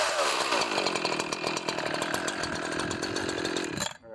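An Echo CS-4910 chainsaw runs loud and close at a steady high-revving buzz, then drops off sharply at the end.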